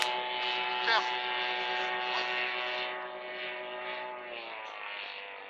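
A radio-controlled model airplane, the Peter, flies at an aeromodelling meet in St Macaire, its propeller engine droning steadily with a shifting pitch, moderately distant and fairly faint.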